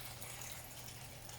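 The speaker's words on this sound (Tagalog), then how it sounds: "Yan, lalagyan na pa siya ng tubig." Water poured from a container into a pot of pancit broth made with chicken stock, a steady faint hiss of liquid running continuously for the whole short stretch.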